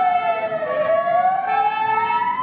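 A fire engine siren wails through a city street near a fire station in Madrid, its steady rising and falling tone loud and close over traffic rumble for the whole stretch.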